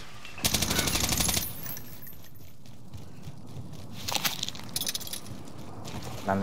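Gunfire in a multiplayer battle royale shooter game, two loud bursts of rapid automatic fire about a second long, then quieter scattered shots and a few sharp reports over a steady low background rumble.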